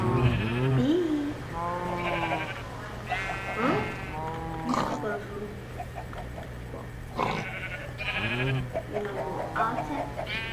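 Sheep in Minecraft bleat repeatedly in short, wavering calls that overlap at a close, even level. A low steady hum runs underneath, with brief gaps between bursts.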